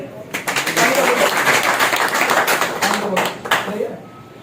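Loud applause from an audience at a health talk, a dense burst of clapping lasting a few seconds and fading near the end.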